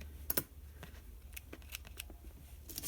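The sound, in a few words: scissors snipping paper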